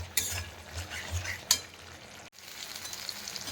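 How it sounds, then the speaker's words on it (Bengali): Mustard spice paste fries in oil for a bata fish curry. A steady sizzle runs throughout, with a couple of sharp spatula scrapes and a brief cut partway through. "মশলাটা খুব ভালো করে কষিয়ে নিতে হবে, যাতে করে সর্ষের কাঁচা গন্ধটা একেবারে চলে যায়।"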